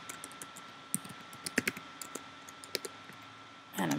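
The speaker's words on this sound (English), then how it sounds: "I type my subject, so Kate's assignment." Soft clicks of typing on a computer keyboard, a handful of irregular keystrokes close by in a quiet room, ending with a brief louder rustle.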